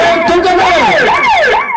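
An ambulance siren in a Maithili stage play wails loudly with repeated rising and falling sweeps, close and continuous for the whole moment.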